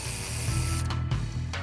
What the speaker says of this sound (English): we're gonna remove these bolts.